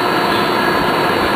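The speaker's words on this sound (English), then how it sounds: "Now let me clean this up a little bit with a vacuum" A vacuum cleans up drilling debris after a hole saw cut for a voltmeter installed in an M1008 truck. The steady, loud, continuous roar runs alone without a break and with no talking.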